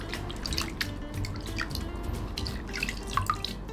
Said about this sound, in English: then rinse them several times under running water to remove all the starch